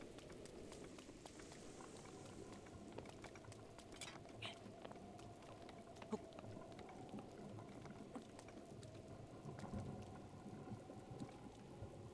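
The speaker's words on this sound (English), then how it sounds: "Why does it always have to rain" Steady rain falls in Zelda: Breath of the Wild, a soft, continuous patter of drops that stays even throughout, heard alone and fairly faint, with no distinct thunder.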